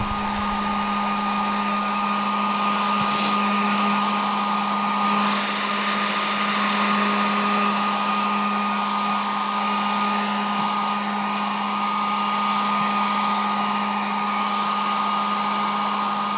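A heat gun blows hot air in a steady, loud whirring hiss with a constant hum, running without a break from start to end, close by, and nobody speaks.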